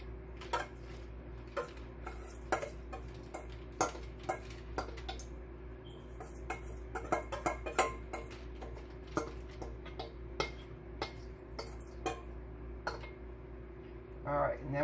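Homemade pumpkin granola is spread across a cooking sheet, with repeated light taps and scrapes of a utensil on the metal tray, close up, over a low steady hum.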